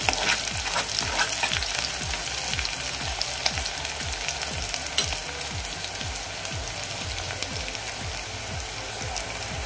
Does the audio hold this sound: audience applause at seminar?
no